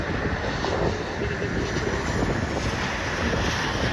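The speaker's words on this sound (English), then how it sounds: "1338 coming in from Orlando to 737-800. Now about to touch down on runway 10." A Boeing 737-800 arriving from Orlando touches down on runway 10 at San Juan, heard as a continuous loud roar of jet noise mixed with wind buffeting on the microphone.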